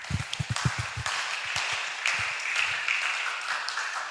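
A church congregation applauds at a Sunday service, a short burst of clapping with a few distinct hand claps at first that blends into steady applause, heard alone without talk.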